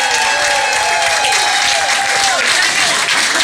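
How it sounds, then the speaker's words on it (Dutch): Loud applause from the crowd at a carnival song contest prize ceremony, continuous clapping with a sung melody or tonal line running through it. "Dames en heren, geef voor nog een groot applaus."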